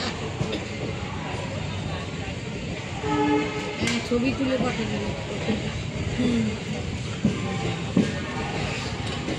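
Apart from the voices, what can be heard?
Howrah–Bandel local train running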